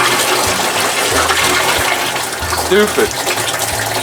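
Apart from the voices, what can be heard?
water gushing out of outboard motor test tank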